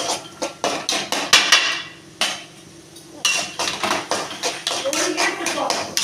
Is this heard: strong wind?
no